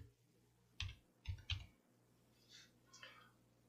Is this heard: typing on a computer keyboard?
yes